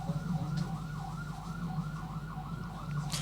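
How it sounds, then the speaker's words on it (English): A police siren wails in the distance during a military parade for Grenada's independence anniversary, its rising and falling tone steady and faint over a low crowd rumble. "you can hear the siren."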